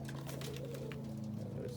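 Pigeons in a loft, including red pencil cock birds and crested homers, coo low and continuously in the background while someone talks over them.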